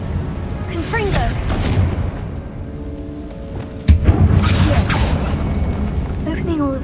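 Confringo explosive spell cast inside a tomb in Hogwarts Legacy, a sharp close blast near the four-second mark rising out of rumbling game ambience and music, with brief voice-like chirps around it.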